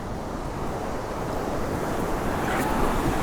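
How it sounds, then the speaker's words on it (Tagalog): During a typhoon, rough sea waves roar without pause as strong wind buffets the microphone, the surge swelling slightly louder toward the end, with no voices. "Bagyo ngayon, men."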